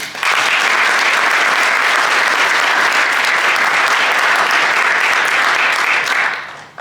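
Steady, dense applause from a large audience at a military 25U graduation ceremony honoring awardees, rising quickly, holding loud and even for several seconds, then tapering off at the end with no talking.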